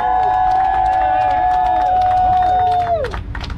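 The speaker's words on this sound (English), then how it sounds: "Now the applause was good." A crowd at a Houston slab car ride rally for justice for Ahmaud Arbery cheers, claps and whoops loudly and continuously, with voices chattering through it, before the noise tapers off near the end.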